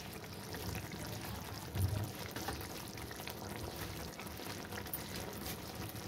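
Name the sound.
pouring raw mustard oil over fish curry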